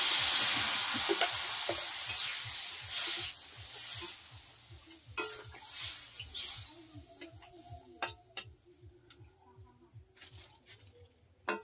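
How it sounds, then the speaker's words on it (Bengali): Water poured onto fried spice paste for a fish curry with potatoes, a loud hiss that swells and then drops off, followed by softer bubbling, clicking and a few sharp metallic taps. "এবার বৌদিভাই জল দিয়ে দিচ্ছে।"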